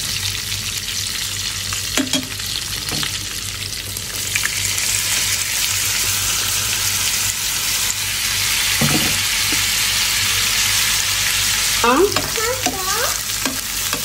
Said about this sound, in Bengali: আমার এই মাংস ভাজা হয়ে যেতেছে